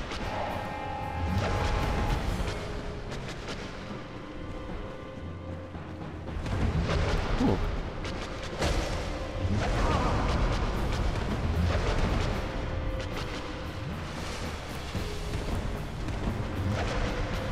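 Explosions in the video game Dark Souls rumble and crash in heavy booming bursts, loud low blasts recurring over a dense game soundscape, with no speech.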